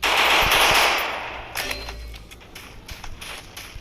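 A rapid burst of MP5 submachine gun fire in a video game rattles loudly at first, then trails off into scattered shots and fading game sounds.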